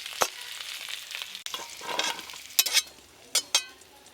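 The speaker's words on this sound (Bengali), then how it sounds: "এদিকে আলু পটল বেশ ভালো করে ভাজা ভাজা হয়ে গেছে" Potato and pointed gourd fry in hot oil with a close, crackling sizzle, punctuated by brisk scraping and clattering bursts from stirring in the pan.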